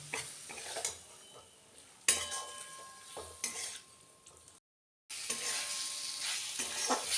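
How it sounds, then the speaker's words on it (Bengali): Mutton fat and liver frying with spices in a pan, a steady loud sizzle broken by scraping stirs and utensil clinks against the pot, with a brief silent gap partway through. "এরপর আমি এখানে দিয়ে দেবো চর্বি আর মেটেগুলো এগুলোকে দিয়ে খুব ভালোভাবে কিন্তু কষিয়ে নিতে হবে"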